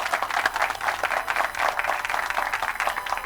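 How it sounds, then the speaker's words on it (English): An audience claps steadily in the video game The Lion's Song, a dense, even patter of applause that carries on throughout at moderate volume. "Was that for the Markerts or for his introduction, that clapping?"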